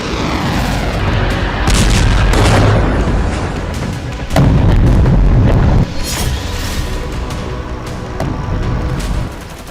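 Cruise missile strikes exploding over Ukrainian cities, heard as heavy continuous booming and rumbling blasts, loud and dense throughout with stronger surges.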